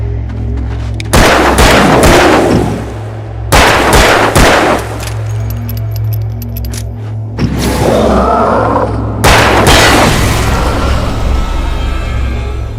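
Gunshots in the video game Alan Wake: four heavy, booming shots spaced several seconds apart, loud and close, over a constant low drone with faint rumbling in between.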